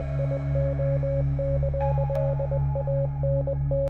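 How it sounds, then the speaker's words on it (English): Morse code from the Voyager probe beeps in the video game Space Simulator, a string of short and long electronic tones pulsing steadily over a constant humming drone. "Until you start hearing the Morse code."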